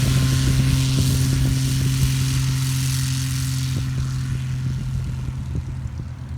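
A propeller plane drones steadily overhead in flight, a loud continuous engine hum with a strong low tone that slowly fades slightly over several seconds, with faint crackling wind noise and no talking.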